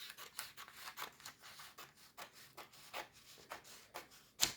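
Scissors snipping through a long strip of paper for a mini-album craft, a quiet series of short dry cuts in an irregular rhythm, close and isolated, ending in one sharper snip.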